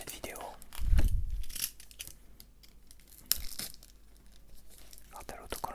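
Panini FIFA World Cup sticker packets being torn open, with a louder rip near the start and softer crinkling of the paper wrappers after, all close by. A low whispering voice runs underneath.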